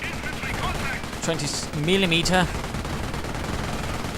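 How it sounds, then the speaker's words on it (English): Rapid bursts of 20mm automatic cannon fire from an armored car crackle through a game soundscape, with a warbling tonal effect sounding briefly in the middle. "auto cannon doing a bit of damage and running straight into the base machine guns"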